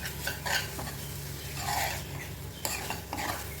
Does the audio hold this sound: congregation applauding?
no